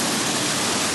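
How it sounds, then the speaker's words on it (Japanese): A forceful waterfall at the far end of Ginzan Onsen's hot-spring town roars close by as a dense, steady rush of water, with no voices. "割と勢いのある滝があった。"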